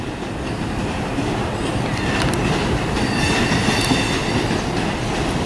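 A train pulls out of Trenton Station bound for New York Penn Station, its steady rumble and clattering wheels holding close and loud throughout, with faint squeals near the middle and no talk.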